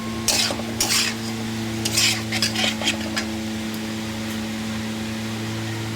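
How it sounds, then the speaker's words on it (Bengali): A spoon stirs fish curry with eggplant and potato in a pan, giving several short scraping strokes in the first few seconds over a steady background hum and faint sizzle, with no talk. "ভালো করে নেড়ে চেড়ে নেবো।"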